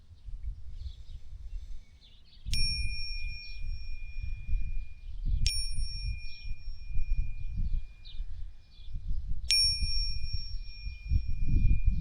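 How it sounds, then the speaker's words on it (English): Chimes ring out softly in the background, three sustained metallic tones spaced a few seconds apart and each fading slowly, over a low rumbling outdoor bed with faint bird calls. "Perhaps you can hear the chimes in the background,"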